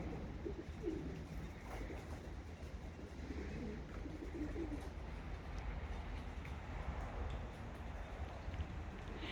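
Racing pigeons coo softly outdoors on a dark, overcast day, their low calls faint against a steady background rumble.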